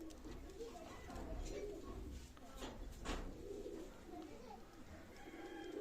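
Batera pigeons cooing at a pigeon loft: soft, low, repeated coos over faint background noise, with indistinct voices nearby.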